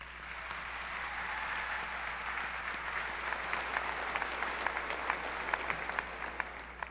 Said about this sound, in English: Graduates, please take a moment to show your appreciation and support by giving everyone in here the arena today a round of applause.